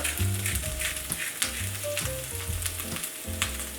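Vegetables seasoned with salt and pepper for a Thanksgiving side dish sizzle loudly and continuously in a pan close by, with occasional stirring and a low steady hum underneath, and no voices.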